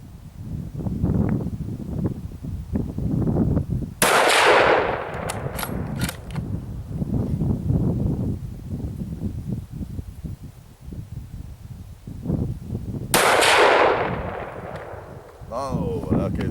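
Two loud, sharp rifle shots ring out from a Remington 700 ADL Varmint in .308 Winchester, spaced several seconds apart and fired at a target on a range, while people talk throughout.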